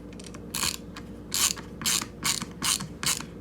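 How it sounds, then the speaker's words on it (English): Xiaomi Mijia ratchet screwdriver ratcheting, five or six quick bursts of fine clicking in an uneven rhythm, close and crisp with no voices. "Then you put the ratchet"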